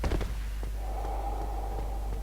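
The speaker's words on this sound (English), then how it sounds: "I can hear Darth Vader breathing through here." Heavy, Darth Vader-like mechanical breathing in the video game Dark Souls, a faint, steady hissing breath with a low hum beneath, alone without speech.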